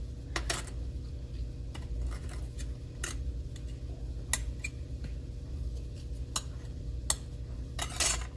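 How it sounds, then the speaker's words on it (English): A blade chops excess polymer clay scraps on a hard work surface, making sparse, crisp taps and clicks at irregular intervals over a quiet background hum. "Let me chop this up so I can get some of this green."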